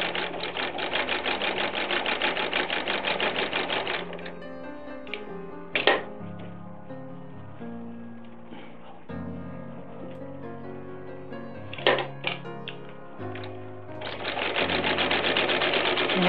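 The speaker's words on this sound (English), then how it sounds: "It's a very smooth running machine and easy to treadle, easy to run" Wheeler & Wilson 12W102 long-arm treadle industrial sewing machine stitching, a steady rapid mechanical clatter that runs loud at the start and end with a quieter, slower stretch and a few sharp knocks in the middle.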